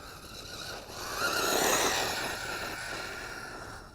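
A ZD Racing 10421-S B-10E brushless 1:10 scale 4WD RC car driving through thick ground cover, its high-pitched electric motor whine rising and falling as it passes at moderate distance.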